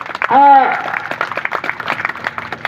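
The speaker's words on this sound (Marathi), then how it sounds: "जोरदार टाळ्या झाल्या पाहिजेत" Applause ripples through guests at a wedding ceremony in Kalamb, a spread of scattered claps under an announcer's voice, after a brief loud shout at the start.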